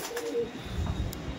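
Madras pigeons cooing in a loft in Delhi, a low soft coo rising and falling over a steady background hum, close and moderately loud with no talk.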